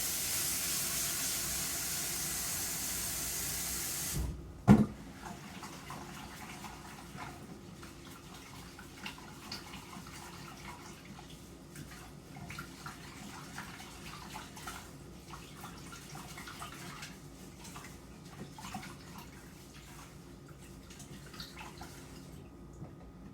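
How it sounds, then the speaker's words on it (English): A container is rinsed under a running kitchen tap: a loud, steady rush of water for a few seconds cuts off abruptly, leaving faint drips and quiet handling in a still room. "I'm gonna rinse this off here real quick"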